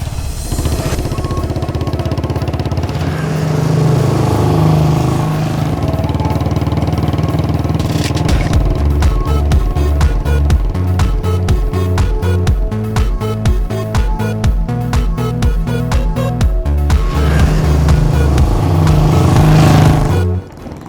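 A motorcycle engine runs loud and steady for about twenty seconds as the bike is ridden along a road, the continuous drone dipping slightly near the end, with no talking.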